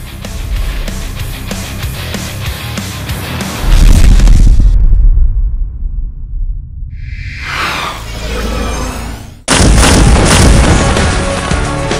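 Loud Central American fireworks display: heavy low booms and crackling bursts, then a rising whoosh like a launching rocket, followed by another dense, sustained burst of explosions.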